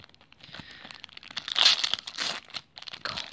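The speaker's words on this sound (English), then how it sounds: "I'm so slow at opening up these packs" Pokémon card booster packs being torn open by hand, foil wrappers crinkling and ripping in close, irregular bursts with a louder tearing stretch in the middle and brief pauses between.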